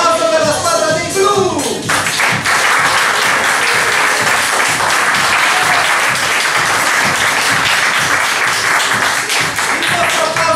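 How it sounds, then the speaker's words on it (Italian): Audience applause at an improv theatre match for the blue team: a sustained, dense wash of clapping from a crowd, steady and fairly loud after a brief voice at the start. "E quindi nostro applauso per la squadra dei blu."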